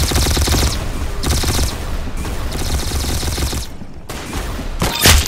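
Loud automatic gunfire in the Roblox shooter Arsenal rattles in sustained bursts of rapid shots with short gaps between them, ending in a sharp single crack.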